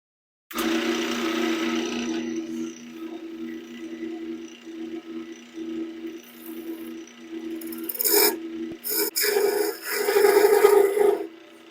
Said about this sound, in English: I have this diamond shaped carbide tool.